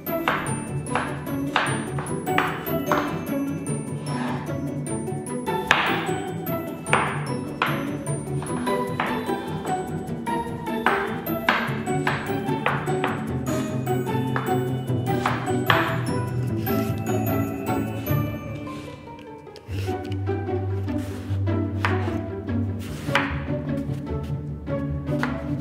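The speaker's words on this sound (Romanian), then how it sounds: "Tocăm." Knife chopping vegetables on a board for a homemade vegetarian lasagna, a long run of close, crisp, rapid taps with a ringing, clinking edge, with a brief pause before the chopping resumes.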